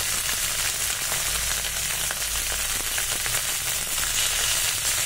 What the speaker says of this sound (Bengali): এবার ঢেঁড়সগুলোকে ওর মধ্যে দিয়ে দিলাম, তেলের মধ্যে একটু নাড়াচাড়া করে নিচ্ছি